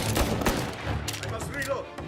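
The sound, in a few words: gunfire in the video game Mafia Definitive Edition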